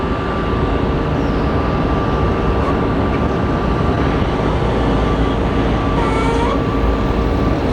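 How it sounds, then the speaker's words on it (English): A Delta Airbus A330 takes off at LAX, its jet engines making a loud, steady broadband roar that fills the whole stretch and stays close and even throughout. "there goes Delta 958 to JFK. One of my favorite planes ever, the 330"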